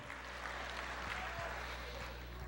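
A church congregation applauds during a worship sermon, with a dense, steady wash of clapping that holds throughout and low background hum beneath it. Scattered voices murmur faintly within the applause.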